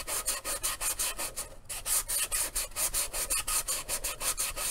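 Sandpaper rubs rhythmically by hand across a 3D printed space suit helmet, quick back-and-forth strokes about four per second, close and fairly quiet, with no talk.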